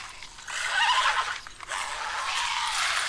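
A horse neighs in a TV drama scene, a loud drawn-out whinny that rises and holds over noisy background, fading briefly before the commotion picks up again.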